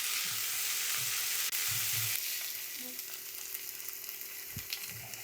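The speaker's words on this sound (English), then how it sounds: "Just gonna saute these up real nice till they get nice and" Vegetables sautéing in a pan for omurice, a bright steady sizzle with occasional low knocks and stirring sounds, close and fairly quiet.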